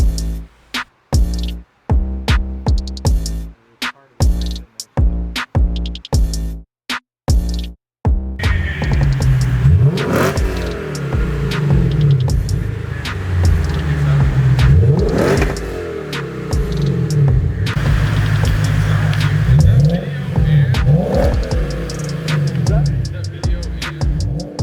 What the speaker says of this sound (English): the exhaust came out perfect. It not only looks amazing, but it sounds amazing too.